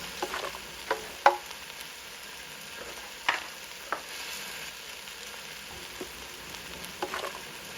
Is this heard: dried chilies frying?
yes